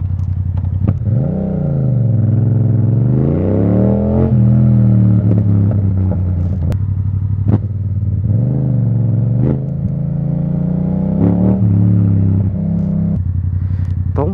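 A Yamaha MT-07 motorcycle engine revs up and down repeatedly, its pitch rising and falling in swells over a constant loud idle, close by and with no talk.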